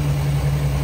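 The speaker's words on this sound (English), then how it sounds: "just to let you see if she is running. Really quiet motor. Has a nice exhaust note coming out the back," A used 2019 Tahoe 700 Limited boat's motor runs steadily close by, a smooth, quiet low hum with an even exhaust note and no talking.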